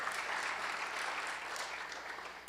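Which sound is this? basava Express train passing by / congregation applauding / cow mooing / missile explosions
congregation applauding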